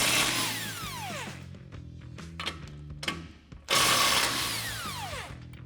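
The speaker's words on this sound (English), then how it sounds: "So we'll grab an 18mm socket to pop these off." Ratchet on an 18mm socket loosening the lower strut nuts on a 2021-2023 Ford F-150 during a lift kit install, with rapid clicking bursts that come in two long runs and short ticks between them, close and loud.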